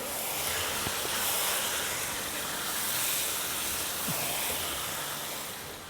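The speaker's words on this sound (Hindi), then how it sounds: "तो अब इसकी हम 2-3 मिनट अच्छे से भुनाई करेंगे।" Chicken biryani ingredients with chicken and potatoes sizzle in a hot pot over medium-high flame, a dense, steady hiss with faint occasional clicks, with no talking.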